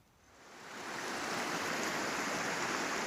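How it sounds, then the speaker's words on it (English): The Rio Grande flows in the snowy mountains near the Continental Divide, a steady broadband rush of water that swells in over the first second and then holds even and fairly soft. "Here's the Rio Grande River."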